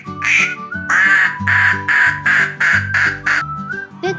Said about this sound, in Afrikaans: Dit is 'n eend.